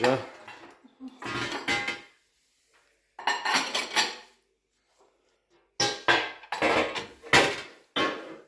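Dishes clatter and clink in several separate bursts with quiet pauses between, close by and fairly loud.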